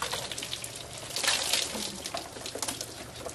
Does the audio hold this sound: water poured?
yes